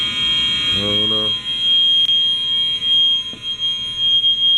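A fire alarm shrieks steadily throughout inside a building in Arkansas, a continuous high-pitched electronic tone, while a person speaks briefly near the start.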